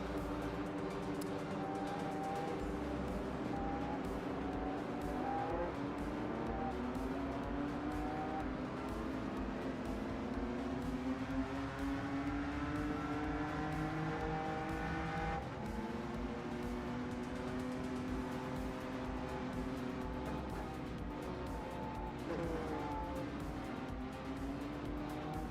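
BMW M2 engine in the Rennsport sim racing game, revving steadily near and loud for the whole stretch, pitch climbing and falling through gear changes with occasional tire squeal.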